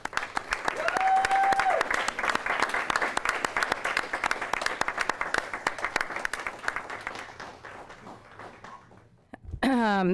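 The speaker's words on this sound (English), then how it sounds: "Huge round of applause" Audience applause at a school board meeting, a close room of people clapping steadily and loudly for several seconds before thinning out, followed by a voice starting to speak at the end.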